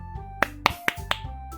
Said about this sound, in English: Four of us applaud.